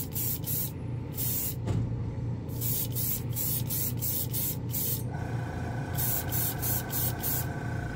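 BEHR spray paint hisses from an aerosol can onto a white plastic spoon in repeated short bursts with brief pauses between them, close and steady.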